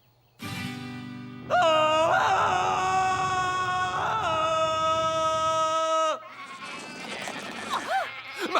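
A sheep bleats loudly and at length, a wavering drawn-out cry, followed by a brief rougher bleat.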